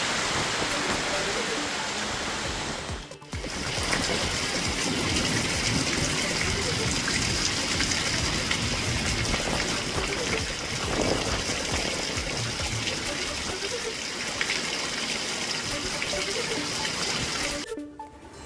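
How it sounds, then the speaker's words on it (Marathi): Wind and unseasonal rain sweep over farm fields in Himayatnagar taluka, Nanded district, as a dense, continuous outdoor roar with a couple of short drops in level. "वारा पण आणि पाऊस पण आहे नाही।"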